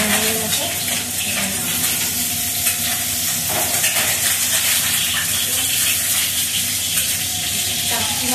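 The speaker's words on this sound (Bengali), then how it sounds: "মাছটা ভাজা হয়ে গেছে।" Fish fries in a kadai with a loud continuous sizzle and bubbling hiss, close by and steady, with faint clatter now and then.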